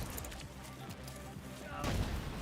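Gunfire in the game The Division 2 crackles in a dense, ragged fusillade of overlapping shots, with a heavier burst near the end, mixed under a low, busy background.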